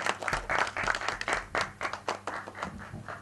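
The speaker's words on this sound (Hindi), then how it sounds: "जोरदार तालियां।" Audience applause at a film trailer launch event, a dense burst of clapping from a crowd that holds steady for a few seconds with no talk over it.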